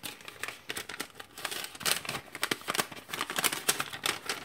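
A paper napkin from a 1992 Australian Defence Force combat ration pack crinkles and rustles softly near the microphone in quick, uneven bursts that continue throughout.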